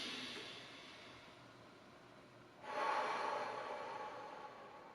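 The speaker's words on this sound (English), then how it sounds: "So that's our superhero breathing pattern." Deep breath from a breathing exercise for back pain: quiet hiss of a slow inhale for the first seconds, then a sudden louder, rushing exhale that tapers off, with no talking.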